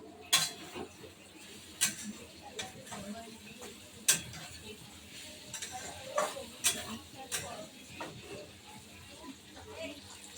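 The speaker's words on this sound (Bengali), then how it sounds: "আলু বরবটিটা ভাজা হয়েছে কিনা দেখে নিই" Potatoes and yardlong beans fry gently in a pan over lowered heat, a faint sizzle with scattered sharp clinks and scrapes of a utensil against the pan, and quiet voices faintly in the background.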